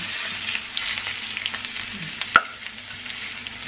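An egg frying in a pan alongside lechon sisig gives a steady, moderate sizzle with a single sharp utensil tap partway through, and no speech.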